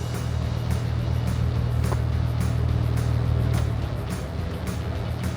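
An off-road vehicle crawls over a big rock on a dirt trail, its engine giving a steady, loud low drone with scraping and rumbling throughout, close to the listener.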